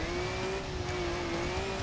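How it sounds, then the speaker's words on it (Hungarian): Engine drone of a car in a racing video game, a steady high tone with broad roar and tire noise, continuous and loud for the whole short stretch. "Na, visítsen ez az autó."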